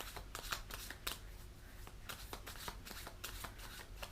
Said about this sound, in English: So, I draw some more cards.